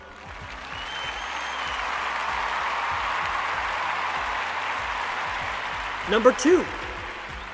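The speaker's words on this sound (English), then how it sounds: "Please hold your applause." Audience applause in a hall swells up and holds steady as a broad wash of clapping, easing near the end as a voice briefly speaks over it.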